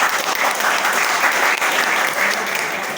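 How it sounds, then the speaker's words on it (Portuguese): A crowd at a prayer group's 28th anniversary gathering bursts into loud, sustained applause, a dense wash of many hands clapping that holds steady throughout. "Aplaude, gente."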